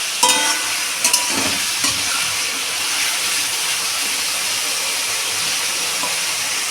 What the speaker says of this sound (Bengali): কাঁচা লঙ্কাগুলোকে আমি দিয়ে দিলাম।